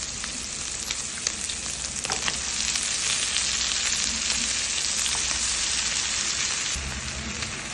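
Red amaranth leaves hit a hot pan and fry with a dense, continuous sizzle, close and fairly loud, with light stirring scrapes mixed in and a slight drop in intensity near the end.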